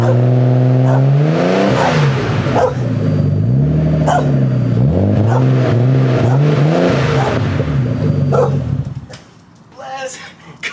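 Nissan Skyline R32 GTST with a new exhaust, revving repeatedly in rising and falling sweeps for most of the run, loud and close, with a dog barking in between, before dropping to a quieter idle.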